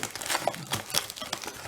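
Paper packing is scrunched and crinkled in quick, uneven crackling bursts while a Schleich figurine is unpacked, close by and with no talking.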